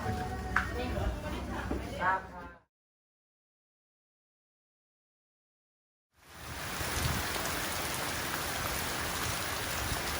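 Steady tropical rain hisses loudly on Ko Lipe island, Thailand, after a brief silence, preceded by a moment of people talking.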